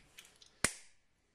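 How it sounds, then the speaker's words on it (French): A single sharp close snip as a small hose is cut during the fitting of a 70cc booster kit, preceded by a few faint handling taps, then quiet. "On va le couper, on va couper toujours le petit jet."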